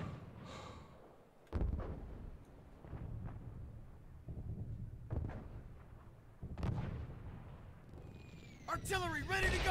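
Artillery fire in Call of Duty: United Offensive during a capture-the-flag match, a run of heavy booming blasts and shots landing every second or two, with voices calling out over the gunfire.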